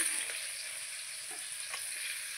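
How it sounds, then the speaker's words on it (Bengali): Fish pieces fry in a pan with a steady, even sizzle of hot oil that holds level throughout, with a few faint clinks and no voices. "এরকম এই যে মাছ ভাজা হচ্ছে"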